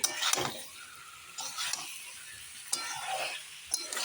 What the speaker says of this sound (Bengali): মশলার সাথে ফুলকপিগুলো একটু কষিয়ে নিচ্ছি